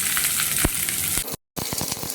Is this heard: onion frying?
yes